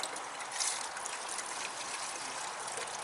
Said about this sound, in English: So we want to rinse that out really,